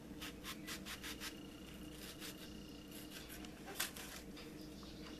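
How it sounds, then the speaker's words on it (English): A knife slices raw pizza toppings thin on a board, a run of soft, quiet scraping strokes, close up with no talking. "And I'm slicing them thin."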